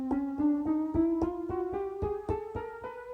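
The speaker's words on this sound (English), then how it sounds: "That's 12, and then here's the octave." Twelve ascending chromatic notes tapped one after another on the pads of a Roland Verselab MV-1, each a short steady synth tone with a clear attack, rising evenly in pitch at a brisk, regular pace.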